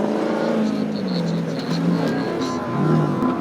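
An LCR racing sidecar chassis with a Honda engine runs steadily at Goodwood Festival of Speed, a loud, sustained motor drone with slight swells in revs, close by against a busy outdoor background.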